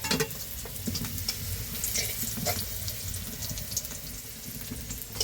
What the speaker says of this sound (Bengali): এই যে দেখো ভালো করে ফোড়নটা ফুটে গেছে